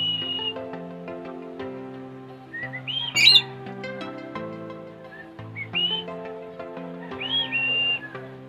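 A pet bird calls back with bright chirps and whistled notes, several short bursts spread over music playing steadily underneath.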